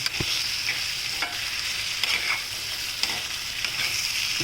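Boiled potatoes stirred and fried in a pan for a spicy aloo katli, a steady close sizzle with scraping turns of a spatula every second or so, no voices.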